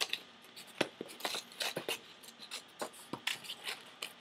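Scissors snipping through paper in a steady run of short crisp cuts, close and fairly quiet, with pauses as the sheet is turned between strokes.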